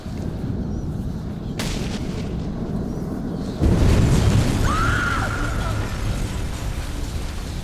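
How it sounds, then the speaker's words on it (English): An oil truck explodes on a bridge in the Batman: Arkham Origins video game: a heavy, rumbling blast swells suddenly out of a steady roar, then settles into a sustained, loud, noisy rumble with a brief whistling tone. "Source of explosion was an oil truck on the bridge surface."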